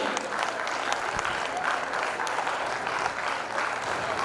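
Sustained applause from a school prize-day audience, an even, dense roll of many hands clapping at moderate volume from start to finish, with only faint traces of voices.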